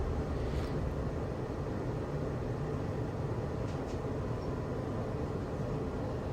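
Steady, unbroken rumble of a South West Trains passenger train pulling out of Aldershot, heard from on board as a dense low roar with no talking.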